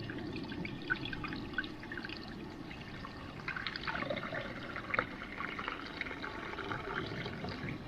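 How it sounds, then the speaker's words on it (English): Water pours steadily into a small pot at a camp stove, a continuous rushing splash with small drips and clinks throughout, close and fairly loud. "fill it with water till it floats"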